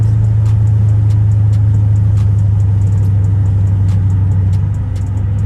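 A Dodge Charger with an SRT-style setup on a snowy drive gives off a steady, loud low engine drone that holds nearly constant throughout, with faint ticks above it.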